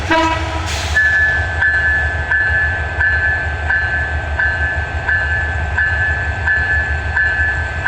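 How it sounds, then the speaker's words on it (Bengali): An intercity express train pulls out from a platform at Dhaka Kamalapur railway station, giving steady low rumbling with a sustained horn-like tone and a brief whistle blast near the start, close and fairly loud with no talk. "রাজশাহী অভিমুখী আন্তনগর সিলেট সিটি এক্সপ্রেস ঢাকা কমলাপুর 7 নম্বর প্ল্যাটফর্ম থেকে ছেড়ে গেল"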